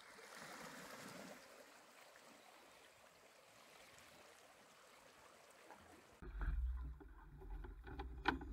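Tide water laps and splashes against a dinghy in a cove. A soft, continuous trickling wash gives way to a few closer, louder knocks and sloshes near the end.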